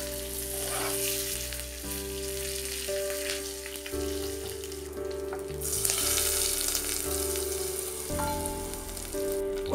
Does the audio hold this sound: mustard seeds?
yes